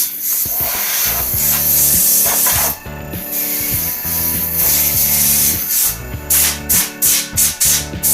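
Compressed air blasts out a resin-turned shaving brush handle, a loud close hiss that runs nearly continuously over a workshop machine hum, then breaks into several short bursts at the end.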